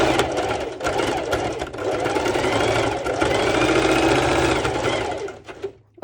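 A sewing machine runs a straight stitch on fabric for a pole dance top, its rapid steady needle chatter loud and close, pausing briefly and slowing to a stop at the end.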